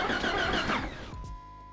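A Jeep Grand Cherokee with a fuel or spark fault, out in the woods, cranks with a rapid rhythmic churn and then catches and settles into a steady idle, close and fairly loud.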